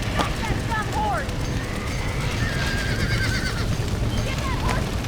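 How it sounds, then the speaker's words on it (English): Horses in the Red Dead Redemption video game neigh and whinny several times over a steady rumble of galloping hooves, with game ambience throughout. "Get that horse back! Get it moving!"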